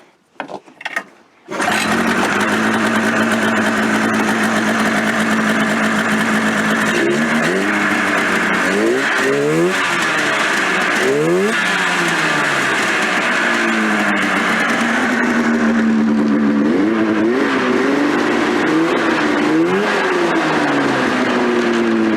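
A 1996 Polaris XCR 440 snowmobile two-stroke engine starts and then runs loudly and continuously, with repeated rising and falling revs and a buzzing, raspy tone throughout.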